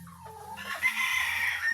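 A rooster on a game fowl farm gives a brief crow nearby, rising then holding for about a second over quiet farmyard background.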